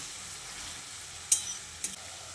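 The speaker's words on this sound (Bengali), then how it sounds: "সেদ্ধ আলু ও কলমি শাকটা দিয়ে পেঁয়াজের সঙ্গে ভালো করে নেড়ে চেড়ে মিশিয়ে নিতে হবে।" Boiled potatoes and water spinach being stirred into onions in a pan, a soft continuous sizzle with two sharp clicks of a spatula against the pan near the end, no talking.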